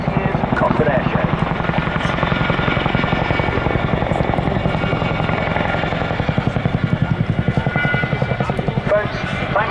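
An RAF Chinook helicopter flies an airshow display at Cosford Airshow, its loud, steady rotor thump continuing throughout while a commentator talks over it.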